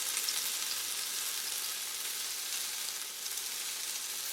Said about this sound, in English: I'm going to flip them over, give them a sear on this other side.